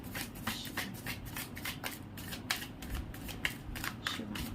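Tarot cards are shuffled and handled at close range in a steady run of quick riffling and flicking bursts, quiet and without talking.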